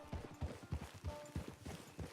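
Horse hooves clip-clop in the video game Red Dead 2 Online, about eight close, even-paced hoof strikes in a steady walking rhythm.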